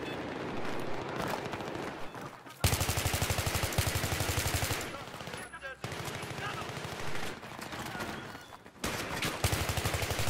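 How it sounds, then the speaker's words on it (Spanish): Video game gunfire: long bursts of rapid automatic shots, loud and close, broken by short pauses, with faint voices underneath. "Ahí va que me disparan"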